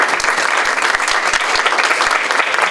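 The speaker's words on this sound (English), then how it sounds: "Let's give them a round of applause." A room of people at a statewide children's book program launch event applauds steadily for about three seconds, dense clapping filling the space without a break.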